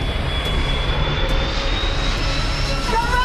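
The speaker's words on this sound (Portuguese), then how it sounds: "Quando atinge o fim da pista, o avião ainda está rápido demais." A landing airliner races down the end of the runway still travelling too fast, its engine roar a steady, dense rumble with a faint high whine running throughout.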